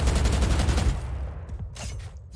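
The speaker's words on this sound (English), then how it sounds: "You guys can hear the difference between shooting normally and shooting with a stim beacon" In the Valorant video game, a gun fires a fast burst of shots boosted by Brimstone's stim beacon. The loud, rapid volley runs for about a second, then sparse echoing impacts and tails fade away.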